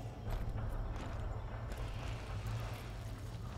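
Horse hooves clip-clop steadily in the Darksiders II video game, a continuous walking rhythm of hoofbeats over a low rumbling game soundtrack, with no one talking.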